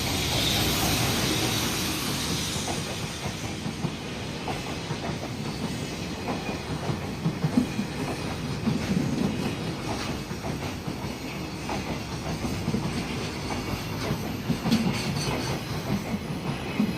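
Japanese freight train passing a railroad crossing in a residential area: a continuous rolling rumble with rhythmic clickety-clack of wagons and a faint hiss, steady and fairly close, with no talking.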